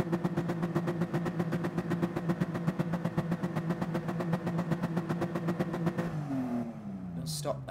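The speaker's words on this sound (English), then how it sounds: "I'm just going to do this and start revving the engine." A car engine in the racing video game GT Sport revs steadily, a loud rapid pulsing drone that holds for about six seconds before winding down.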